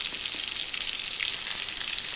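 Pieces of pointed gourd frying with salt in hot oil, a steady close hissing sizzle that holds at an even level throughout, with no voices.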